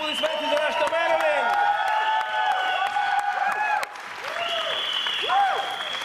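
A television game-show studio audience claps and cheers while upbeat music with a bright melodic line plays over it, the crowd noise steady and fairly close, fading briefly midway before picking up again.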